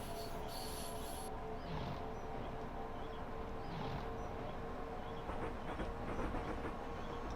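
A London-Faversham High Speed train in a train simulator game pulls away, with a steady rail rumble and a faint rising motor whine and track clatter that carry on under the hum.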